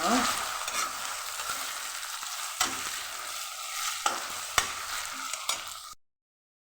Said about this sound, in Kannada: ಈಗ ಇದಕ್ಕೆ ತುರಿದಿಟ್ಕೊಂಡಿರೋ ಮಾವಿನ ಶುಂಠಿ ಹಾಕ್ತಾ ಇದ್ದೇನೆ ಹಾಕೋ ನಿಧಾನ ಹಾಕಿ ಮಿಕ್ಸ್ ಮಾಡ್ತೀನಿ